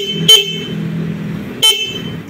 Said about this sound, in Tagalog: Then check natin yung kanyang horn.